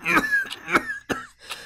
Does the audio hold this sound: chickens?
no